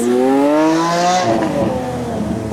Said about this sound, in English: You can see how much quicker the Lambo hits its red line